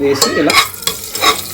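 Whole cinnamon, cardamom pods and bay leaves fry lightly in a pan for mutton keema, with soft sizzling and clinks of a spoon stirring against the pan in short, close bursts.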